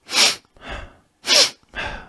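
Four short, sharp nasal sniffs in quick succession, close and fairly loud, with brief silent pauses between them and no talking.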